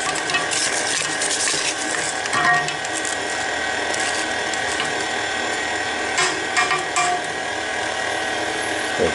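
Spatula scraping down the sides of a bowl of banana cake batter with eggs being worked in, a steady busy mixing and scraping texture that continues without pause and stays close.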